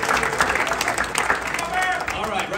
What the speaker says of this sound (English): Huge round of applause for Bear.